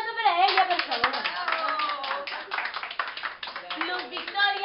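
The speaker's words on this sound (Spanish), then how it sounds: "¡Un aplauso para ella, por favor!" At a birthday surprise, a group breaks into lively applause that carries on for several seconds while voices cheer and call out over the clapping.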